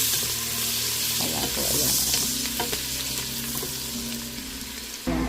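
Onion sautés in butter in a pan for chicken macaroni soup, giving a loud, continuous hissing sizzle with occasional utensil scrapes. A brief spoken remark comes over it near the end.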